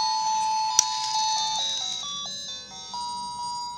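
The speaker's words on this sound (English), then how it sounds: "it's playing a beautiful Christmas song. Jingle Bells." A battery-powered musical climbing Christmas figure toy plays a tinny electronic melody of beeping single notes in steady rhythm, preceded by a sharp click. It is close and alone, with no talk.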